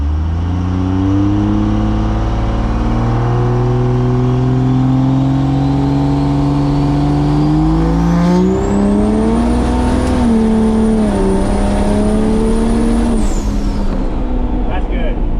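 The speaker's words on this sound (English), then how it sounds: "We're gonna really spool it up this time." A 1,000+ HP Cummins-swapped squarebody truck revs hard and close, its diesel note climbing steadily as the turbo spools up into a rising high whistle, which holds and then drops away near the end.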